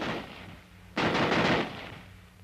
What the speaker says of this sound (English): This cycle will be repeated, and the rifle will continue to fire as long as the trigger is held back.